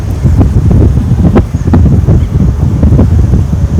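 Strong gusty wind roars steadily across the microphone, with intermittent clattering and rattling bursts scattered throughout.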